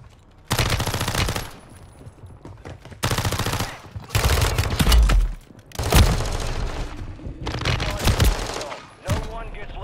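Call of Duty gunfire in several loud automatic bursts, each lasting a second or two with short quiet gaps between, close and sharp, with a voice talking in among the shots.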